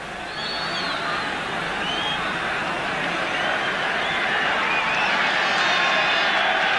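A stadium crowd at a 1987 European Championship qualifier between Ireland and Bulgaria roars steadily as Niall Quinn leaves the bench. The broad, sustained cheer rises slightly toward the end, with distant whistles and calls mixed in.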